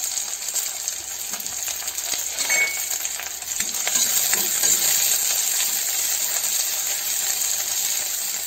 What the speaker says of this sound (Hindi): उसके बाद हमें इसमें डालना है जो हमने ये प्याज काट रखा है